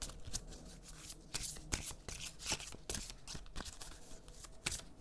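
Oracle cards being shuffled by hand make a close, continuous papery riffling and flicking with quick irregular slaps, heard alone without talk.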